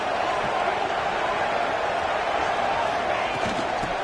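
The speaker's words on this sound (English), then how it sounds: "It's early, but this crowd is fired up. Listen to this noise here." A fired-up stadium crowd at a college football game, Texas Tech at Arizona State, roars in a steady, loud wash of cheering that holds for several seconds with no break.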